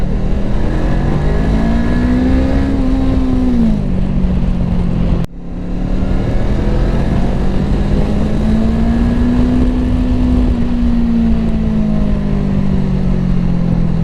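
A Voge 500DS motorcycle engine on a test ride pulls hard with a loud, steady drone, rising in pitch, briefly dropping at a gear change, then climbing again under continuous wind rush.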